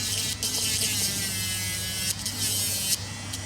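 A SHEIN electric nail drill whirs steadily while removing nail colour, a continuous close high-pitched buzz with slight shifts in tone as it presses against the nail.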